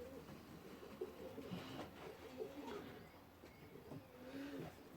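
Pigeons cooing softly inside a shed, low repeated coos overlapping at a distance, faint and steady, with a gentle room hum underneath.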